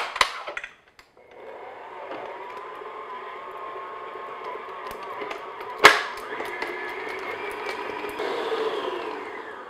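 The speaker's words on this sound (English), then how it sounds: "I'm going to just beat this on medium speed just until it's nice and smooth." An electric mixer beats butter on medium speed for shortbread tart dough, a steady whirring motor drone after a brief start, with one sharp knock near the middle and a slight rise toward the end.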